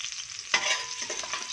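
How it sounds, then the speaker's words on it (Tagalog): Ingredients for pork bopis sautéed in cooking oil in a pan, a short burst where a sharp sizzle and scraping stir suddenly rise up close, then settle into crackling. "Higisa natin siya sa mantika."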